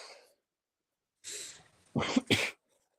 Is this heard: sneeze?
yes